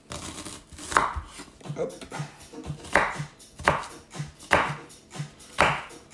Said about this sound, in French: on les coupe vraiment vulgairement. Donc on fait des gros morceaux